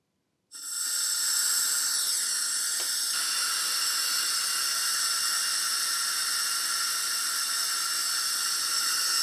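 Compressed air hisses steadily out of the valve of a resin-casting pressure pot used for epoxy casting with silicone moulds, a loud, continuous broadband rush that starts abruptly and holds nearly constant without tapering off.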